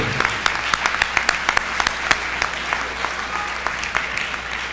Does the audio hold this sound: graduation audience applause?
yes